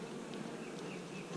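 A dense swarm of honeybees buzzing around a rack of hives, a steady close drone with no gaps and no voices.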